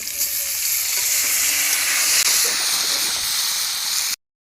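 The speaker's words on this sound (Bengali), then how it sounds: "তেলে আলুগুলো ভেজে নেব" Potatoes fry in a pan of hot oil with a loud, continuous close-up sizzle and hiss that runs without a break until it cuts off at the end.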